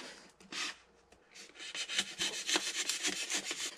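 Foam being trimmed by hand for a homemade spoon storage box, a close scratchy rasping and rubbing in quick repeated strokes that grow busier and louder after a brief pause.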